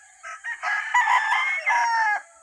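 A rooster crows nearby, one full drawn-out call rising in short opening notes before holding a loud, strained tone for about two seconds and cutting off.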